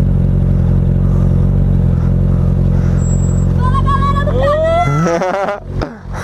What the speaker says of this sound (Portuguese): muita moto chegando aí pro Mega Cycle